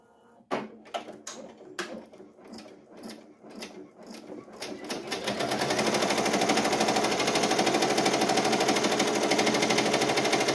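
An embroidery machine stitches an appliqué placement line on a hoodie, starting with spaced clicks and taps before settling into a loud, continuous rapid stitching chatter that runs steadily to the end.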